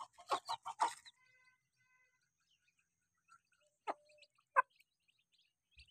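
A hen clucks in quick bursts, then gives scattered soft calls to her chicks amid near silence in a rural home yard while being fed rice.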